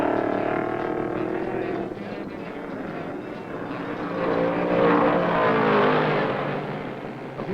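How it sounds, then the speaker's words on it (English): Vintage 1969 NASCAR stock cars, led by a Ford Torino, thunder around the track after a restart; a steady, loud engine roar rises and falls as cars pass, without speech. "on the restart, David Pearson in the number 17 Torino owns the lead."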